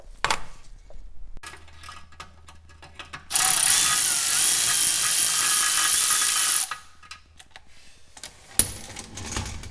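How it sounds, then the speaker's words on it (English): Transmission pan bolts on a 2001 Chevy S10 come loose under a rapid ratcheting tool, a steady mechanical buzz of a few seconds framed by quieter clicks and small metallic knocks, with no talking. "I'm just going to start loosening those bolts until I can pry the front down"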